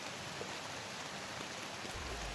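Steady rain falls in a video game, a dense, even hiss of droplets that holds without pause, with a low rumble rising near the end.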